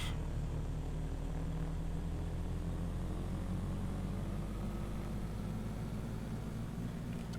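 A Piper PA-36 Pawnee Brave propeller engine in a flight simulator drones at a steady, loud run-up with brakes on, a constant low hum with no pauses.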